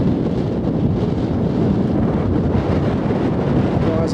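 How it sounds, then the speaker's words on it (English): Strong wind buffets the microphone on a countryside walk from Hassocks to Brighton, a steady, loud low rumble with no breaks, heard alone. "I'm walking head on into the wind"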